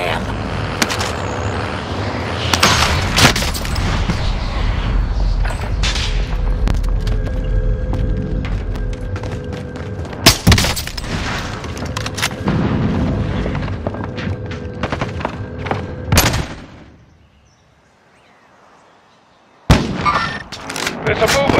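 Sustained gunfire and heavy booms in Call of Duty: Warzone, dense loud bursts stacking over a continuous rumble, a sudden near-silent gap, then the firing resumes abruptly.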